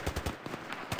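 Rapid automatic gunfire in the video game Battlefield 3, several sharp close bursts in quick rhythm, loud and alone without talk.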